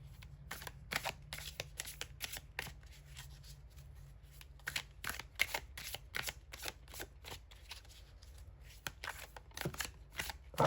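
A deck of oracle cards being shuffled by hand: a steady run of crisp riffling snaps and soft slides, close and quiet, with no talking.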